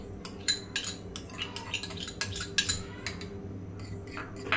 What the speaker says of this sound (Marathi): सर्वात अगोदर मी यात दही टाकून घेते